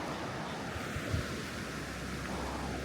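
Steady broadband rush of a river flowing near a campground at Jellystone Cherokee, continuous and fairly loud with no distinct events, alone without talk.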